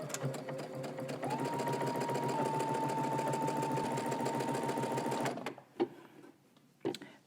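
A sewing machine runs its longest 5 mm stitch through fabric, starting with a short backstitch. It whirs loudly and steadily for about five seconds, then stops, followed by a couple of faint handling clicks.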